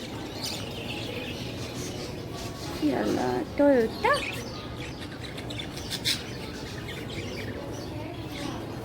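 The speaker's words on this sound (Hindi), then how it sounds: "चलो तोते चिड़ियाँ देखते हैं।" Parrots and other birds chirp in short bursts mid-clip while someone speaks over steady background noise.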